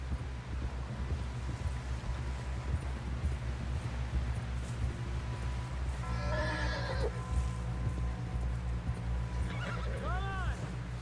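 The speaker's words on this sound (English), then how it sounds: "Someone help John down off this horse." Video game audio from Red Dead Redemption 2: steady hoofbeats clop under a low rumble, and a horse whinnies twice, once in the middle and again near the end, with wind in the background.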